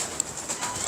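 Pigeons coo softly in a brief stretch, with a couple of faint, low murmuring calls against a quiet background.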